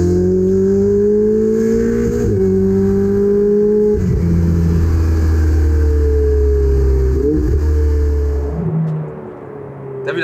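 Ferrari 488 GTB twin-turbo V8 accelerating hard, a loud, close engine note whose pitch climbs in steps with quick gear changes before easing off near the end.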